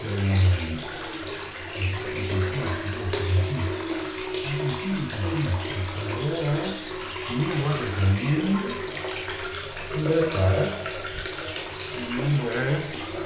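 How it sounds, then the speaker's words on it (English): Water pours and gushes steadily from a pipe, a continuous splashing rush with low gurgling, running unbroken from start to finish. "And so the sound you hear, and you can see it here, the water"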